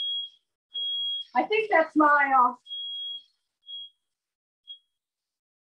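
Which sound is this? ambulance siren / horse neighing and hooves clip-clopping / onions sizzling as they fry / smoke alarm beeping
smoke alarm beeping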